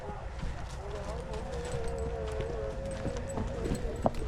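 A mare's hooves clip-clop at a walking pace on an evening road after a wedding reception, faint and steady beneath people talking nearby.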